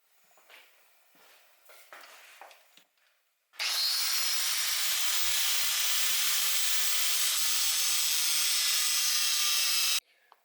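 A saw cuts steadily into a metal bracket with a loud, continuous hissing rasp lasting about six seconds, close, after a few quieter scattered handling knocks.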